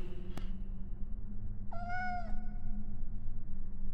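A cat in the Harry Potter and the Sorcerer's Stone video game lets out a single clear, close meow lasting about half a second, preceded by a short click over a steady low game hum.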